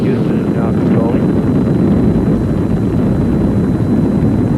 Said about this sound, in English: The Skylab lifting off the pad now, moving up.